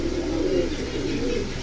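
Silver aluminium-line pigeons coo close by in a soft, continuous low warble lasting a couple of seconds, with no talking.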